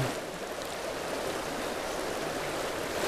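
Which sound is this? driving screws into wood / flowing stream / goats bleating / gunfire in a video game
flowing stream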